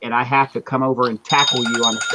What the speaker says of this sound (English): And that's my alarm.